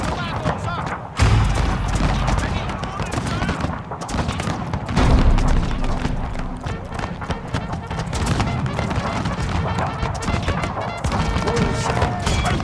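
Musket volleys crack and thud across a Total War FOTS battlefield from the Carlist Wars mod, a dense ragged fusillade of overlapping shots and impacts mixed with battle din, with voices shouting over it.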